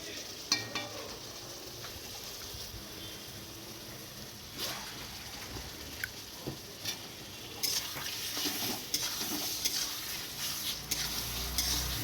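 Chicken pieces go into fried spice paste in a village kitchen pot. A continuous sizzle runs under scraping and clinking stirring strokes, and the frying swells louder and fuller partway through.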